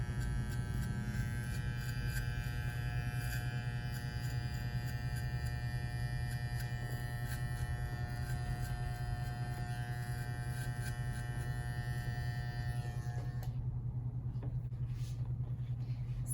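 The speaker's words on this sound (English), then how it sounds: "take the trimmer and do the same thing" An electric hair trimmer buzzes steadily at close range through a men's home haircut, running with no guard to cut very short; the constant drone continues for most of the clip, then cuts off near the end, leaving quiet room sound.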